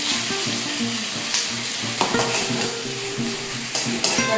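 Onion, tomato and ginger garlic paste fry steadily in a pan, a continuous loud sizzle with occasional scraping stirs and light clinks of the spoon against the pan.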